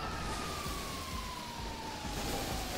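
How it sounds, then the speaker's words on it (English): A police car siren wails in the GTA video game, a loud continuous tone sliding slowly downward over engine and game noise. "Yeah, Henry, turn off your goddamn sirens"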